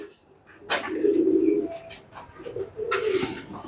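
Soft, low coos from a Tonk pigeon come in two drawn-out phrases, close and fairly quiet, with faint background noise between them.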